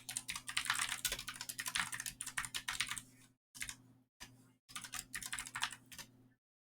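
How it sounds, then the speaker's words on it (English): Rapid typing on a computer keyboard during Lord of the Rings Online play, a dense run of clicking keystrokes with two brief pauses before a final burst, over a steady low hum. "Let me finish typing this up here."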